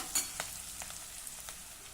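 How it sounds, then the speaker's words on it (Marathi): Chopped onion is lightly sautéed in a pan, giving a soft, steady sizzle with a few faint stirring scrapes near the start. No one speaks over it. "हा कांदा आपल्याला अगदी हलकाच परतून घ्यायचा आहे"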